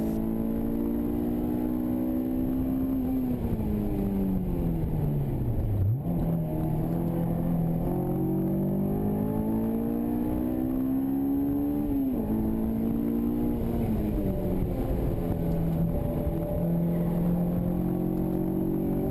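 A Honda S2000 lapping a race track clockwise during an SCCA time trial, its engine loud and close throughout, pitch climbing through the gears with a sharp dip and shifts, steady wind and road roar underneath.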